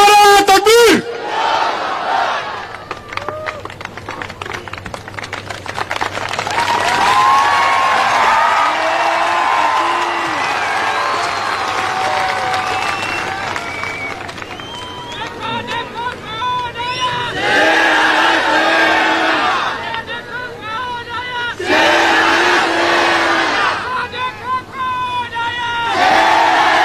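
A large political rally crowd answering a Nara-e-Takbir call at an Owaisi event chants loudly in repeated surging waves with shouts and cheering, each burst full and close, separated by brief lulls with a voice over a PA.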